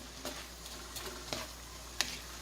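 String beans cooking with shrimp in a pan for Jamaican shrimp pasta, a faint quiet sizzle broken by a few light clicks of a utensil.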